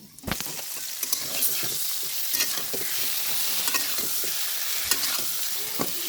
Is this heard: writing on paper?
no